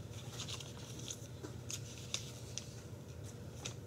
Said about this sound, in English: Then you're going to take each corner and fold it up.